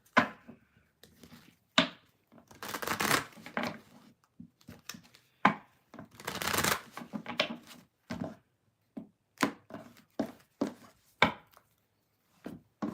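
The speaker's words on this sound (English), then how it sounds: "I do the timestamp after I shuffle so that they don't have to sit and watch me shuffle forever." Tarot cards shuffled by hand, a run of quick papery riffles and soft slaps in uneven bursts, close and fairly loud, with brief pauses between handfuls.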